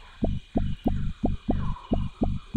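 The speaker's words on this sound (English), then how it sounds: "To attract a mate, Larry's sphincter emits a unique subsonic pulse" A lemur's comically rendered subsonic mating pulse: eight evenly spaced, deep throbbing thumps like a heartbeat over a faint hum, close and steady.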